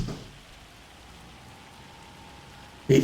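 Steady, soft patter of rain falling continuously in Farming Simulator 25, an even wash of sound with a sudden louder burst right at the end.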